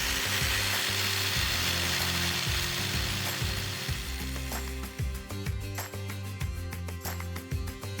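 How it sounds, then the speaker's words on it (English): Metal brackets are ground and cut in a home workshop, with a steady power-tool drone overlaid by rapid ratcheting, clattering bursts, loud and close. "A little bit of grinding, few final cuts on some brackets"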